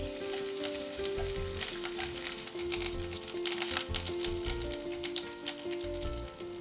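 Curry leaves and green chillies sizzle in hot oil while cooking crispy potato 65, a steady close crackle and hiss throughout with soft tonal music beneath.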